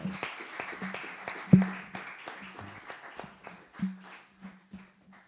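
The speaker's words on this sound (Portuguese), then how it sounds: "Uma grande salva de palmas" Scattered, uneven claps from a small audience at a live comedy show, with sharp individual hand claps standing out among softer ones over a low steady hum.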